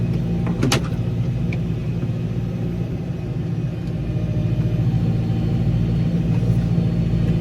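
TR6.130 tractor deep-ploughing a wet, muddy field, its engine a steady close low rumble that holds throughout with no pauses and no one speaking.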